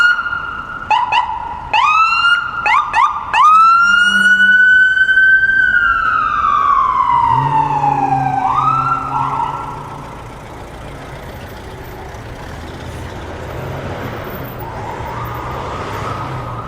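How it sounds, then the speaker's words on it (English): An ambulance siren wails loudly on a downtown Toronto street, starting with sharp yelping chirps before a long rising and falling tone that sweeps past and fades into distant traffic hum. "here comes an ambulance"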